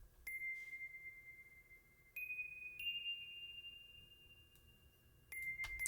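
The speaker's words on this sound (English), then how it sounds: "next is this bell. Without effects" A dry, unprocessed bell sample for a West Coast R&B beat, sounding as sustained single tones that shift in pitch a few times, clear and alone over a faint low hiss.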